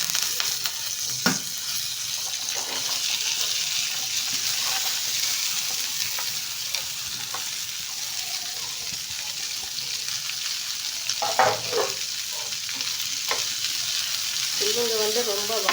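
Curry leaves, drumstick leaves, dried red chillies and onion fry in hot oil with a constant close sizzle, occasional stirring scrapes and clinks, and no talking.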